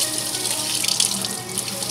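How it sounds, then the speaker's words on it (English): Tap water runs steadily into a sink while items are rinsed beneath it, a continuous close splashing hiss with small shifts as objects pass through the stream, no talking. "So, basically we're just gonna rinse this stuff off."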